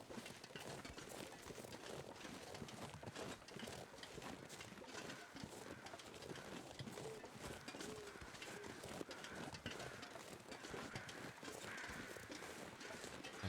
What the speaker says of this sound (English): Those flyover birds.